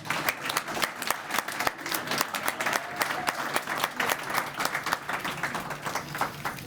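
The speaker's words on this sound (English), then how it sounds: "Let's give all our participants a great hand." Steady applause from an audience at a university business competition awards night, dense clapping filling the room for several seconds with no speech over it.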